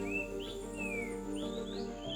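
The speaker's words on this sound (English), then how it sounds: "Hear the birds." Birds in Kibale forest, Uganda sing in clear whistled phrases that rise and fall, repeating over a steady hum of insects, moderately near and without talk.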